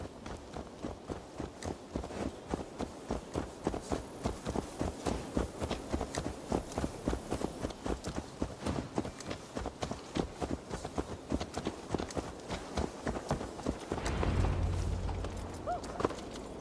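Horse hooves clip-clop in steady, even rhythm through Assassin's Creed Valhalla, a close, clear trot of repeated sharp strikes that runs nearly the whole stretch before a deeper rumble swells near the end.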